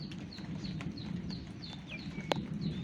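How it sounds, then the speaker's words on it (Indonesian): A long-tailed shrike gives repeated thin, high chirps in a steady series, heard outdoors in the late afternoon over a constant rustle of background noise, with one sharp click partway through. "Ada burung cendet."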